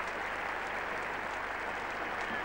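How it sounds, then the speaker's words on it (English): Steady, dense applause from a large crowd at Old Trafford cricket ground during a 1977 England v Australia Test match, spectators rising to greet a departing batsman; continuous and even throughout, heard from a distance. "the crowd here at Old Trafford rising to greet him"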